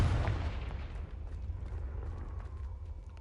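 A Confringo blasting spell explodes in Hogwarts Legacy: a single heavy, close boom that rumbles and fades over a few seconds.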